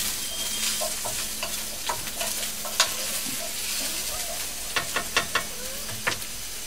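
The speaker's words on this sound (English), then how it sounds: "it's sizzling away" Food sizzles steadily in a frying pan, a soft continuous crackle, while a utensil stirs and scrapes it in scattered clicks and taps up close.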